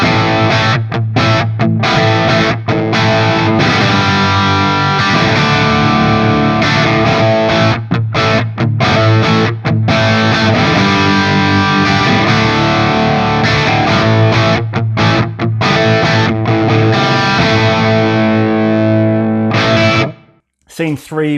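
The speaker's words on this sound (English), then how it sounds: "So I use this for a kind of crunchy rhythm sound." Crunchy distorted electric guitar rhythm playing through a Fractal VP4 into a Headfirst Alta100 amp with some reverb, loud and sustained chords with brief rhythmic stops, ending in a short pause and final hit.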